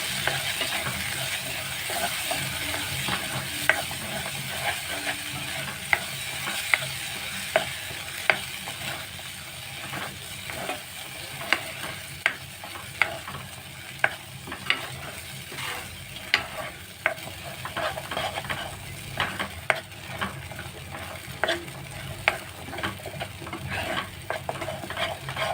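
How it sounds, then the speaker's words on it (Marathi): Ingredients sautéing in a pan for a spicy bitter-gourd bharit, a continuous close sizzle punctuated by regular clicking taps of a spoon against the pan, with no talking. "ते छान परतून घेऊया आपण."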